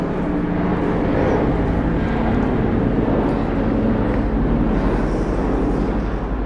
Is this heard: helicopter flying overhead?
yes